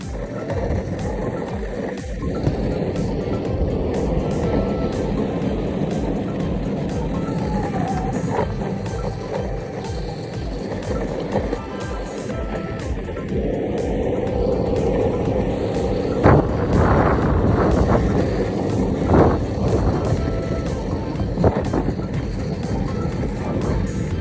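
An electric skateboard runs fast downhill, a continuous loud rumble of wheels on pavement with a motor whine and wind rushing past, with occasional bumps and clatters throughout.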